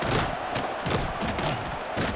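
Dense roar of a stadium crowd in a college football video game, a steady broad wash of cheering and noise filling the whole stretch with no clear break.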